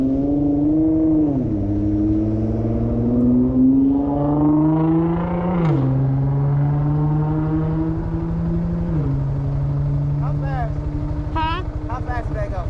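A Honda Grom motorcycle cruising on a street, its small single-cylinder engine droning loud and close, with pitch rising and dropping through gear shifts and throttle changes, plus wind rush.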